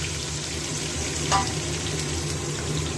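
Continuous close sizzling of onions frying in hot oil, a steady hiss with a brief clink of a utensil partway through.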